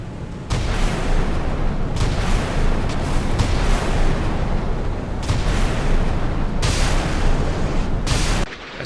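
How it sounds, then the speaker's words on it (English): Missile launches and heavy weapons fire in the naval combat game Sea Power, Russian Slava and Gorshkov ships against American Arleigh Burke and Ticonderoga vessels: a series of loud roaring blasts and rushing bursts, several cut off abruptly, with no talking. "S-300 front runner, very fast missile"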